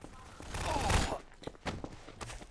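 Rapid bursts of gunfire in the game Trouble in Terrorist Town, sharp cracks clustered around a louder central volley, heard alongside a player's talking voice.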